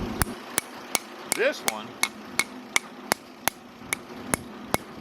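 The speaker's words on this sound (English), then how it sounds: "This one's a little bit tighter than the other one, so we're going to lightly tap it" Light hammer taps on a tight-fitting rear differential part of a Farmall Cub tractor, about a dozen sharp metallic clicks at a steady, unhurried pace, with a brief spoken remark partway through.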